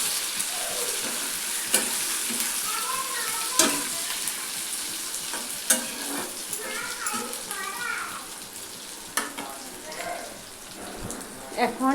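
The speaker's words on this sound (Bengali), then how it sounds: "দেখুন আমার পেঁয়াজটা লাল হচ্ছে," Onion and potato sizzle steadily in a pan for chicken curry, with a spatula stirring and scraping at intervals; someone speaks over the frying throughout.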